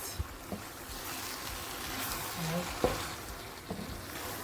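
Pasta frying in a pan on low heat is stirred gently, giving a soft, steady sizzle with a few light clicks and scrapes from the spoon against the pan.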